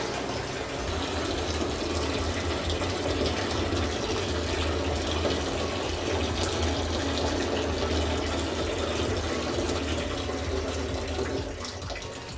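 Water pouring and draining from a container punctured at the bottom in a Coriolis effect demonstration, a steady close rushing, gurgling flow that runs unbroken throughout with no voices.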